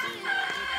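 A plump chicken on a farmhouse property in Amadeo clucks and calls in a brief burst, fairly close and moderately loud.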